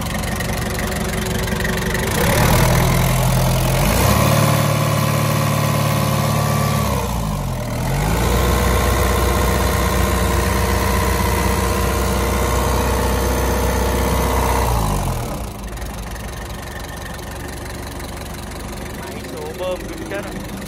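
A used Japanese Komatsu 2-ton forklift with a manual gearbox idles with a steady, slightly knocking engine rumble, rising briefly and then settling, close and loud beneath someone talking.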